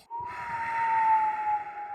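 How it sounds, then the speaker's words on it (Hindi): A sleeping man lets out a single sustained high whistle that holds steady for about two seconds, fairly loud and clear over a faint low background rumble. "ये सीटी की आवाज कहाँ से आ रही है?"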